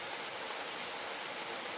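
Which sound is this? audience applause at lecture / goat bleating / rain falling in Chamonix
rain falling in Chamonix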